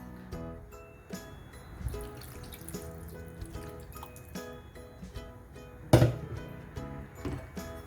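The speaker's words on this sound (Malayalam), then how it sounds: "ഇതിലേക്ക് ഞാൻ ഇനി 1 കപ്പ് തേങ്ങാപ്പാൽ കൂടി ചേർത്ത് കൊടുക്കുന്നുണ്ട്." Second-extract coconut milk poured into a simmering beef stew in a home kitchen, a soft steady liquid trickle running faintly throughout, with a brief clatter near the end.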